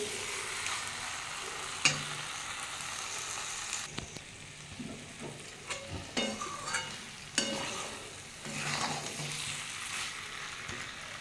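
Broccoli and potato masala sautéed in a pan, a close continuous frying sizzle broken by irregular scraping and knocking strokes of a spoon against the metal, with no talking.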